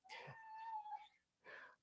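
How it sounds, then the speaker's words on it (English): A house cat lets out a long, loud, harmonic meow that swells and falls, then a short second cry after a brief pause, close to the microphone with no talking. "cat's going crazy"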